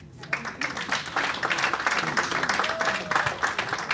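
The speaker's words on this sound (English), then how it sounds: "Once again, a round of applause for him" Applause breaks out at the Nigerian International Film & TV Summit 2024 for the Nile Entertainment Group's chief executive, a dense steady patter of many hands filling the hall, with some voices mixed in.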